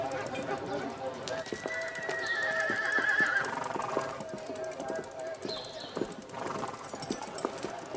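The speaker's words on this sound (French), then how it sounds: "Vous aimez les chevaux?" Arabian horses whinny loudly while hooves clip-clop steadily beneath, with a second, shorter neigh later; voices murmur faintly in the background of a film scene.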